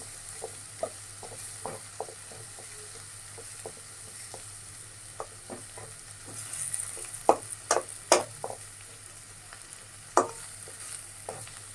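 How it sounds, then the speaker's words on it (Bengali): Flat beans with garlic and green chili frying in a pan, giving a soft steady sizzle broken by scattered sharp stirring scrapes and clicks, clustering near the end, with no talk. "তারপরে আমি আপনার সিম আর এ রসুন কাঁচামরিচ এটা আবার একটু ভেজে নিলাম"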